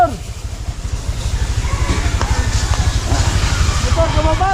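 A motorcycle engine putters steadily and fairly close by, its low pulsing throb running the whole time beneath people talking.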